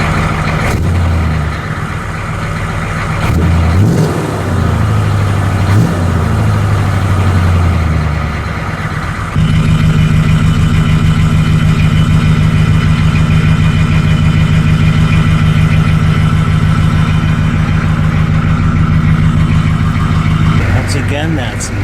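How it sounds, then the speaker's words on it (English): Chevrolet CUCV M1028 military pickup idling and revving through a custom 3-inch exhaust, a deep bassy rumble that steps up louder midway and holds steady, with people talking over it. "Again, that's Lou's custom exhaust"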